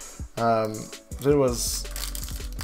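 A foil trading card pack from a KICO card set is being torn and crinkled open, with crackly rustling bursts between stretches of someone talking nearby.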